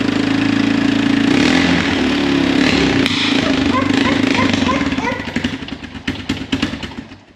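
Honda 450 motorcycle engine with a carburetor fault runs loud and close, a steady rumbling idle that fails to rev cleanly and turns into uneven sputtering pops toward the end, with a person speaking over it.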